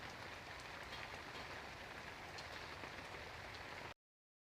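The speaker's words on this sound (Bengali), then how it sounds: "বাইরে বৃষ্টি হচ্ছে।" Steady rain falls outside a rural home kitchen, a dense, even hiss of drops pattering on surfaces that holds at constant loudness for about four seconds before cutting off abruptly, with no voices.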